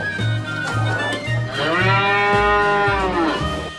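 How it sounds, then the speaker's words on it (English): A cow lets out one long, loud low moo, rising and then falling in pitch and heard up close, preceded by a few short low pulses. "Cow."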